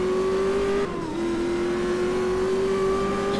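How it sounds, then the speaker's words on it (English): A rally car engine in the video game art of rally drones loudly and steadily at high revs, with a brief dip in pitch and level around one second before climbing back to a sustained whine. "Just completely let the throttle go and let the car sort of correct itself before we commit to the power."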